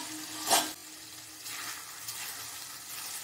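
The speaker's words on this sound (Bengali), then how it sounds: "এবার চিকেন কিমাকে নেড়ে চেড়ে নিয়েছি" Chicken mince sizzling in a wok after simmering under a lid, with a sharp clatter as the spatula stirs early on, then a soft steady sizzle and faint scraping, close and without speech.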